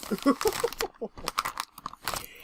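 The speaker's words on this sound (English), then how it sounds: "And yes, I'm making noise because I'm putting these back in my bag." Craft items such as sequins from a card-making kit are packed back into a bag, making quiet, close, irregular crinkling and rustling bursts.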